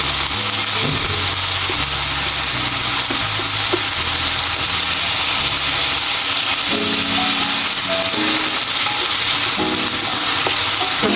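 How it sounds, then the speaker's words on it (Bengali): Potatoes with a little salt frying in oil, giving a loud, steady, close sizzle that carries on without a break, with a few faint background tones and no voice. "হালকা একটু লবণ দিয়ে তেলের উপরে ভেজে নেব আলুগুলো ভালো করে"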